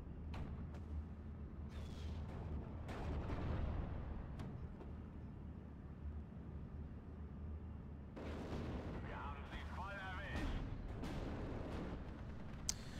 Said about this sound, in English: my cannon is engaging a Sherman, an M4 DD